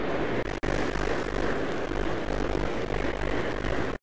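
An airliner rolls down the runway in the air traffic control game Tower! 3D Pro, set at Los Angeles, producing a loud, steady jet roar that holds for about four seconds with a brief dropout near the start.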